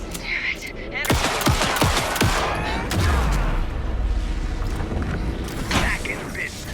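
Gunfire in the video game Alan Wake 2 sounds as rapid bursts of shots in overlapping volleys, loud and close, with a dense background mix of game sound effects.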